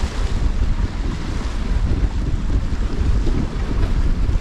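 Strong wind buffets the microphone at the seashore during sea fishing, a loud continuous rumble with surf washing underneath.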